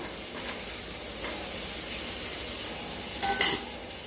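Raw banana, potato and green chili sauté in a pan with a steady close sizzle and stirring scrapes, a brief louder hiss and clatter near the end.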